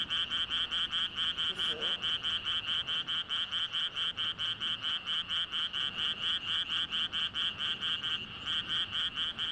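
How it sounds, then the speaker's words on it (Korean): Tree frogs croak at night on Bamseom, an island in the middle of a city, a dense chorus of steady, rapidly pulsing calls that repeat without a break, close and loud with no voices. "밤이 깊어갈수록 도시의 섬 밤섬에선 청개구리 소리로 가득 찬다"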